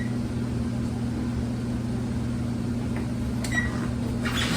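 An oven being set for a 30-minute bake hums steadily close by, and a few short, faint beeps sound near the end with no talking.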